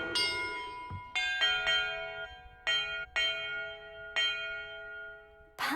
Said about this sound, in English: Perhaps the map contains clues about the order I'm supposed to ring the bells